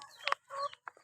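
Laying hens on a chicken farm clucking and squawking in short bursts, close by, several quick calls within a second.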